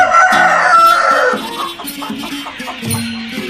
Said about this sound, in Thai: นี่เป็นไก่สาวนะครับไก่หนุ่มไก่สาว